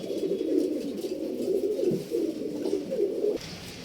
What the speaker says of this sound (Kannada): ಒಳ್ಳೆ ಸೂಪರ್ ಅಕ್ಕಿಗಳು ತೋರಿಸ್ತಾ ಇದ್ದೀನಿ